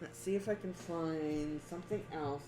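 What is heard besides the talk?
None of the usual background noises is heard.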